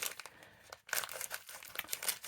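Near, close-up crinkling and rustling of a plastic wrapper as a pistachio cake from a Chinese store is opened, in quick irregular crackles with a short pause partway through.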